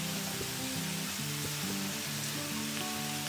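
Onion with spices sautés in a pan, giving a continuous bright sizzle with a low hum underneath and a few soft stirring scrapes.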